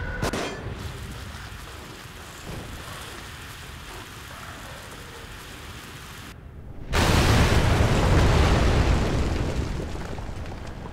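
A shaped charge detonates in the survival-horror game The Evil Within, a sudden loud blast after a brief hush that rolls into a long, dense rumble fading slowly over several seconds, with game ambience beforehand.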